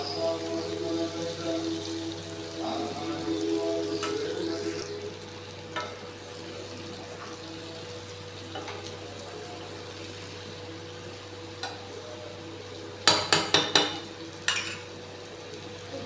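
Bitter gourd is stirred into onions in a pan, giving a soft sizzle over a low hum, with a few sharp utensil clinks against the pan near the end.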